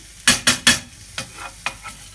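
Beef burger and onions cooking in a pan, heard as a few sharp scraping and stirring strokes with light sizzle between, close and clear with no talk.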